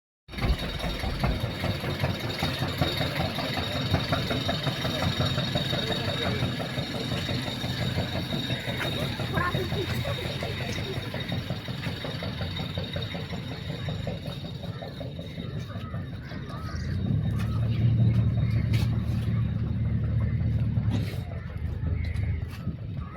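A boat engine runs steadily at a jetty where crowds gather for the ferry to Kayts (Urkavalthurai) in Jaffna, a continuous low drone with a louder, heavier stretch near the end, with people talking and general bustle in the background.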